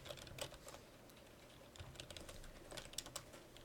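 Rapid clattering keystrokes come from a computer keyboard as code is typed during a programming class, uneven bursts of close, fairly quiet clicks with no voices.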